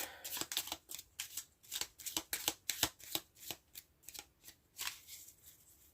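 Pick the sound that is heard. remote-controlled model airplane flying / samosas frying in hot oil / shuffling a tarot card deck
shuffling a tarot card deck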